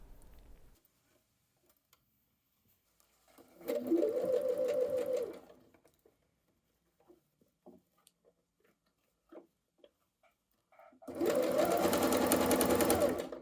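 A sewing machine stitches a seam on a bomber jacket made from a Know Me ME2100 paper pattern, running in two steady whirring bursts of a couple of seconds each, separated by quiet handling noises.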